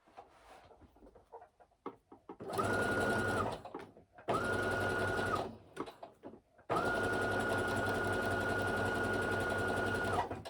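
A sewing machine sewing a wider zigzag stitch on leggings fabric, running in three steady bursts, the last and longest lasting about four seconds, with quiet handling noises between runs.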